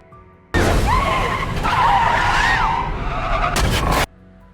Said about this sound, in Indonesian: melihat mobil yang hampir tergelincir